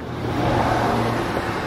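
A car passes along a street, its engine and tyre noise swelling and fading over a couple of seconds, close by and alone without talk.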